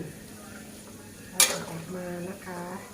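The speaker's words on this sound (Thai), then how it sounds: "เวลาทอดอันนี้ต้องคนตลอดเดี๋ยวเขาจะแตกนะคะ" Pork rinds fry in hot oil while being stirred, a soft sizzle underneath a sudden bright scrape or clatter of the stirring utensil in the pan, then a voice speaks over the frying.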